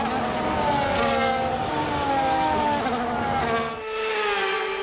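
Formula 1 race cars idling and revving on the starting grid at Suzuka in a racing video game, a dense layered engine drone that stays loud and steady throughout and drops slightly in pitch near the end.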